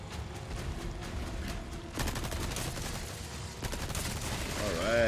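Gunfire rings out in the Resident Evil 4 remake during a fight with El Gigante. Rapid, repeated shots come in a dense burst lasting several seconds, loud and close over the game's background sound.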